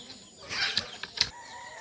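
Brief flurry of wing flaps with a couple of sharp rustling bursts, fairly close, then quiet.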